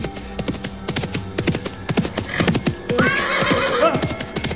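A plow horse gallops in a rhythmic, close clip-clop of hooves that grows louder, then gives a loud, shrill neigh near the end. The scene is a dramatised chase.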